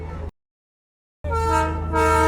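The Darjeeling toy train sounds its horn in two loud, close, tonal blasts: a short one cut off abruptly, then a sudden silence, then a longer sustained blast.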